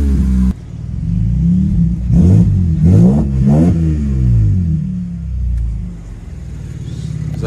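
A Mercedes-Benz SLK 350 engine idles loud and close, then is blipped through a few quick revs before settling back to a deep rumble.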